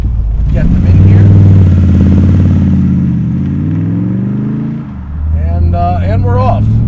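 A Superformance 1965 Shelby Daytona Coupe pulls away with a loud, deep engine roar close by. The revs rise and fall through a gear change, and a voice talks over it near the end.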